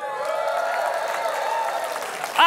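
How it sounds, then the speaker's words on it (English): An audience applauds steadily, a dense, even wash of clapping that holds for a couple of seconds before a voice cuts in at the end. "That was a pretty robust applause right there."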